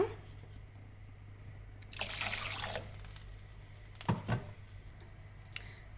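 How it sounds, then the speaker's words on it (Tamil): Water pours into a pan of mushroom gravy in a brief splashing burst, followed by a couple of soft clunks, over a steady low hum. "இப்போ இதில் தேவையான அளவு தண்ணி சேர்த்துக்கோங்க."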